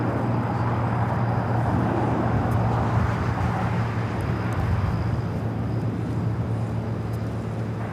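A United Airlines A321neo airliner takes off at LAX, a broad, steady jet roar and rumble holding fairly loud and constant, heard from a distance outdoors without nearby talk.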